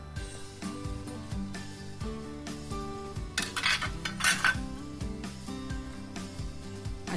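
A metal idiyappam press mould clinks and clatters against an oiled idli steamer plate, with repeated light metallic taps and rattles close by in a quiet kitchen.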